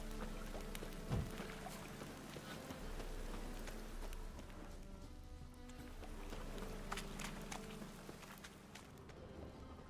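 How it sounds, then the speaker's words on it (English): Steady rain in The Witcher 3 falls as a continuous broadband hiss throughout, with a brief louder splash or footstep near the start and no speech. "And it's raining again."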